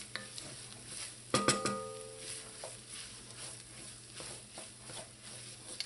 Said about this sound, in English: Stir in the tomato paste so that it releases those juices.